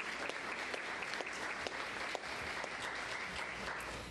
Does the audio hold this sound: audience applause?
yes